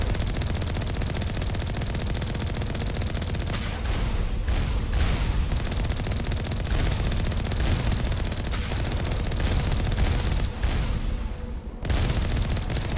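Sustained gunfire from turrets and infantry in the video game Mass Effect 1, a dense, continuous battle din of rapid shots and heavy bursts with sharp louder cracks punching through, loud and unbroken throughout.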